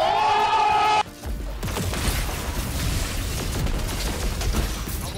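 Rapid gunfire from a Dead Messenger weapon in a Destiny online match rattles on as a dense, loud barrage, following a brief musical tone at the start.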